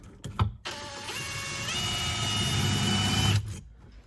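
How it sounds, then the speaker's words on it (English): An electric drill whirs for about three seconds, its pitch rising as it bites into the material, then winds down after a couple of short clicks. "Say we just drill another hole right about where this is going to go through."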